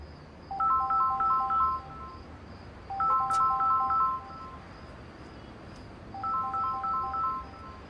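A telephone ringtone plays three separate bursts of quick, bright, repeating electronic trills, with short silent gaps between them over faint background hiss.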